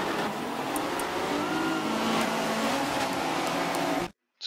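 A Ferrari's engine in a rainy racing video game, a continuous mid-pitched drone with gear-shift wavers held for about four seconds, then an abrupt cutoff to silence and a brief blip.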